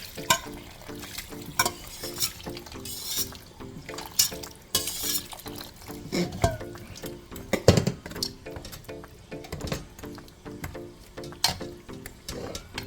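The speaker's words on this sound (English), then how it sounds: "Alright, so I'm gonna pour this water out in here." Water is poured into a pot of oxtail and beans, splashing and sloshing in uneven bursts alongside stirring clatter and light sizzling from the pot, close up and without speech.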